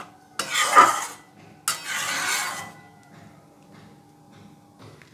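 A spoon stirs and mixes potato curry with ghee in a pan, two bursts of scraping and clinking close by, separated by quiet, with a faint tail of metal contact at the end.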